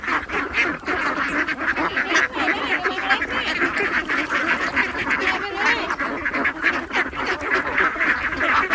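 Many ducks quack together in a dense, continuous racket, steady and fairly loud throughout.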